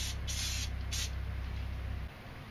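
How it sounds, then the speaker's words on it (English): An aerosol spray paint can hisses out black paint in two short bursts, steady and close, over a low background hum, with no talk. "Now spray some black where the planet is going to be, just a little bit."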